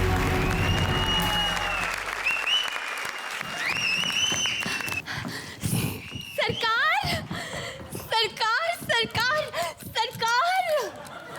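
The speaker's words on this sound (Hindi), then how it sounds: "जोरदार तालियां" Loud studio audience applause on a comedy show fades out over about five seconds, followed by lively spoken dialogue with a sound effect over it.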